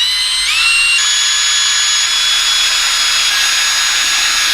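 A loud, steady high-pitched whine of a power drill boring holes into car underbody sheet metal, continuous throughout with a shrill ringing tone.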